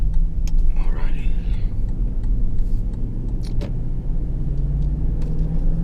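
2017 Lexus LX570 SUV with a 5.7-liter V8 cruising on a road, heard from inside the cabin as a steady low rumble of engine and road noise, with a voice talking briefly near the start.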